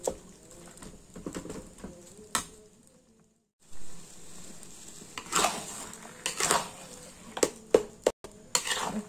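Minced meat frying in oil in a wok, with soft sizzling and irregular clatters and scrapes of a utensil against the pan, pausing briefly before resuming with sharper stirring knocks near the end.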